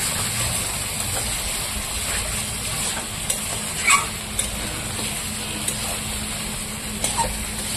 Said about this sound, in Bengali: মাংসটাকে আবার একটু নাড়াচাড়া করে দিই, মাটি নিচে লেগে যাবে।